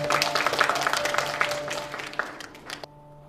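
Audience applause at a staged event, a dense patter of clapping that fills the room and tapers off toward the end, with a steady hum underneath.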